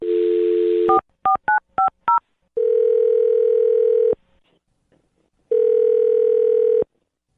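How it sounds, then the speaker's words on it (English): A telephone dial tone comes on, then a quick run of five DTMF keypad beeps as a phone number is dialed. A steady ringback tone follows, repeating after a pause. No one speaks. "I'm gonna dial his phone number right now."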